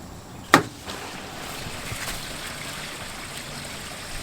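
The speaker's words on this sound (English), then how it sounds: "I'm going to open this black tank handle back up again" Waste water rushing out of the black tank on a 2020 Coachmen Beyond RV as the drain valve handle is reopened during a flush, with a sharp clunk near the start and then a steady, close hiss of flowing water.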